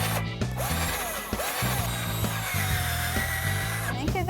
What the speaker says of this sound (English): Next, we'll use a Kreg jig to drill pocket holes.